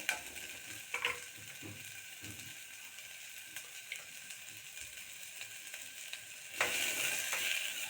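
Pumpkin cooks in butter in a pan for soup, a soft, low sizzle with scattered light clicks of stirring, rising to a louder hiss near the end.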